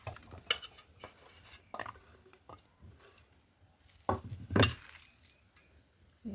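Jackfruit pieces are moved into a large cooking pot for pakoras, making scattered faint clinks and knocks of metal and utensils with quiet gaps between them and no voices.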